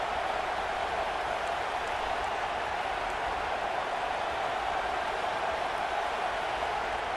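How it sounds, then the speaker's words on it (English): A college football stadium crowd gives off a dense, constant roar at moderate distance, a steady wash of massed voices and cheering without distinct individual talk. "Listen to the crowd energy here in the early going."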